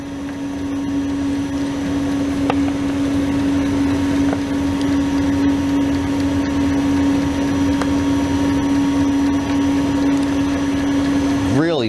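Ice cream machine churning honey lavender ice cream, a steady loud motor hum with a constant tone running throughout.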